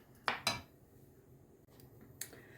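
Metal lid set onto a pot of stewing zucchini and rice: two quick bright clanks close together, a softer knock, then a last light clink over quiet kitchen background.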